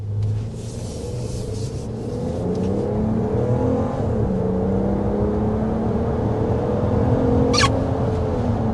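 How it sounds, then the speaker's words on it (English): A 2026 Jeep Grand Wagoneer with a 3-liter twin-turbo inline-six accelerating hard, its engine note rising steadily through the gears in a loud, continuous cabin drone with a brief sharp hiss near the end. "But first, we need to start with a hard acceleration."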